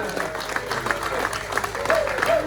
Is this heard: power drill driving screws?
no